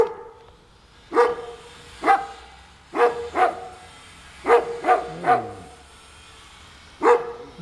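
Several dogs bark loudly and close by, sharp single and double barks spaced irregularly across the stretch, with quiet background between them.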